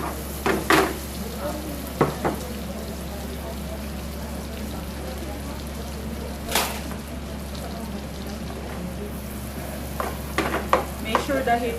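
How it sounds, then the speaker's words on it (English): Onion sautéing in a hot pan over high heat, a constant hissing sizzle broken by several sharp spatula scrapes and knocks against the pan, close and clear. "Saute first the onion."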